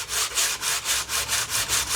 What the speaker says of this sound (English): just go over the bottom of the fuselage with the sanding bar